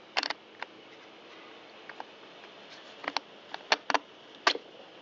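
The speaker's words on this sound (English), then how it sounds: "Set the carburetor onto the mount studs." A carburetor is fitted onto the mount studs of a Stihl MS193T chainsaw, producing small, sharp metallic taps and clicks in sparse clusters, close and quiet, with no talking.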